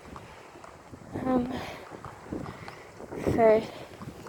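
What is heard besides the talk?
wind blowing during an outdoor walk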